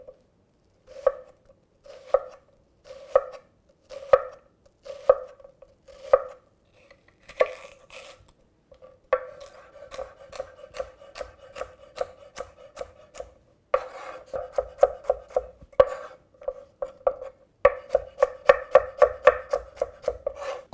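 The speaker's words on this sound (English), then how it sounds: "Now we gotta start to chop the onion, celery, and carrots." Knife chopping onion, celery and carrots on a board, with evenly spaced single chops at first, then faster, denser runs of crisp cuts close by and no voices.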